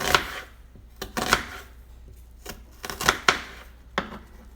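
A knife chops food into thin slices on a board, sharp irregular thunks in short bursts of two or three, close and fairly quiet with pauses between.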